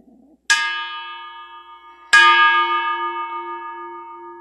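A church bell hung dead with its clapper striking from the outside rings twice, each loud clear strike leaving a long shimmering decay, with no voices.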